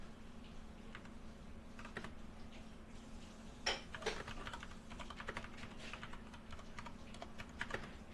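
Fingers tap out a text prompt on a computer keyboard, a quiet, uneven run of close, crisp key clicks over a faint steady electrical hum.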